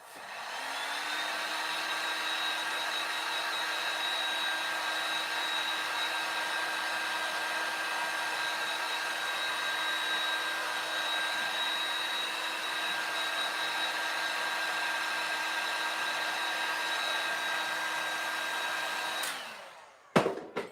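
A hair dryer blows steadily on a small craft bow for about twenty seconds, a loud, even whooshing hum with a faint tonal whine, then clicks off at the end.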